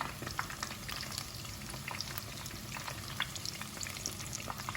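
Cauliflower frying in oil in a pan, with a dense, even crackling sizzle full of tiny pops, steady and close though fairly quiet, no speech.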